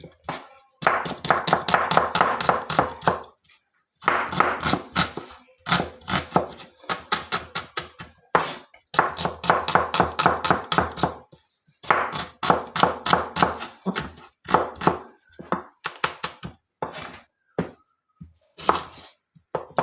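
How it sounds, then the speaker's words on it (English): A knife chops onions rapidly on a cutting board in fast, rhythmic bursts of sharp taps, separated by brief pauses, recorded close up. "I'm just chopping my onions"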